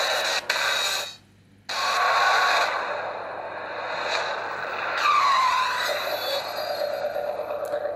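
Racing cars skid and squeal their tires in the mobile game Ridge Racer Slipstream, played on a Sony Xperia Z1 Compact, with engine roar throughout and a brief near-silent gap early on.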